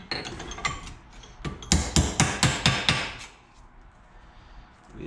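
A hammer striking a metal part of a 2004 Suzuki LTZ250 quad: a run of about a dozen sharp, ringing metallic blows, a few scattered then a rapid cluster, close and loud with no talk.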